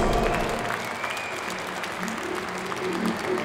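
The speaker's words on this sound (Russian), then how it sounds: "Аплодисменты его сопернику Александру Кахиани." Loud crowd applause in a fight arena after a knockout win in an extra round, sustained clapping mixed with faint crowd noise and a background voice over the hall.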